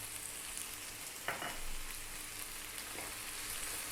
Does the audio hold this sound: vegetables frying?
yes